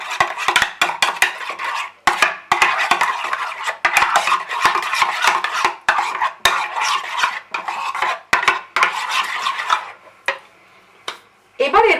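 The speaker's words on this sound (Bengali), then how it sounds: "এবারে ভালো করে এটাকে আমি মিক্স করে নিচ্ছি। টক দইয়ের সঙ্গে মেয়োনিজটা যাতে ভালো করে মিশে যায়।" A spoon stirs sour yogurt and mayonnaise together in a bowl for chicken salad. The close, rapid scraping and clinking against the bowl runs in quick repeated strokes, with a few brief pauses near the end.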